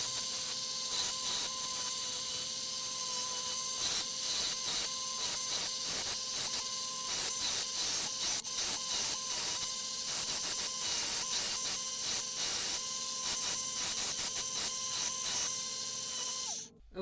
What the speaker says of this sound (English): I got a real coarse belt on this belt sander. We're going to go ahead and get this to shape.